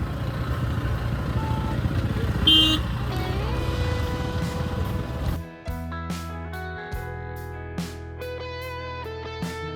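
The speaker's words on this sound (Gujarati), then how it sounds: "Full traffic jam." A traffic jam of cars and motorcycles on a village road on the way to a wedding: a dense, steady engine rumble with a brief horn toot, giving way about halfway through to music.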